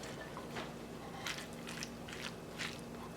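Lobster meat is stirred with mayonnaise in a bowl, making several soft, wet squelching and scraping strokes at an irregular rhythm over a steady background hum.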